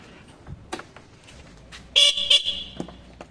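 A short, thin stock horn on a Honda Dio scooter, worn out and failing, beeps twice in quick succession, weak and reedy, over quiet background noise.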